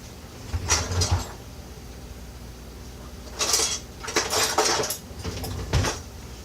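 Kitchen utensils clatter and clank in bursts as someone rummages through a drawer for tongs while frying bread, metallic rattling clusters separated by quiet pauses, no speech.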